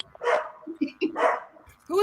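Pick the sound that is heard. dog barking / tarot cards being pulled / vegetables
dog barking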